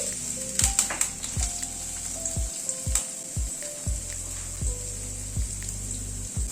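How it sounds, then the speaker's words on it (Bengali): Carrots frying in hot oil, a constant bright sizzle close by, with repeated stirring scrapes and knocks at a steady pace. "গাজরটাকে দিয়ে একটু নাড়াচাড়া করে নিচ্ছি"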